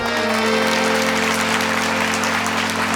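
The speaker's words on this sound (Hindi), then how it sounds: "तालियां ऐसी मरी हुई मत बजाओ" A temple audience at a Shiv Mahapuran katha in Machhindranath Mandir, Jalgaon, claps in a dense, steady patter that stays even throughout, with a constant electrical hum from the sound system underneath.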